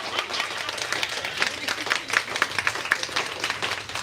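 An audience claps in a steady, moderately loud patter of many hands at a live spoken-word event, continuing evenly throughout with a few sharper individual claps standing out.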